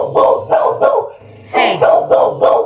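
Dogs bark at a chainsaw, two quick bursts of three sharp, close barks each with a brief pause between, while a faint low drone sits underneath.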